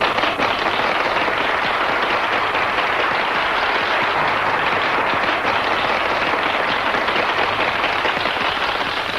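An audience breaks into sustained, loud applause for the introduction of a new doctor, a dense wash of clapping that runs unbroken from start to finish.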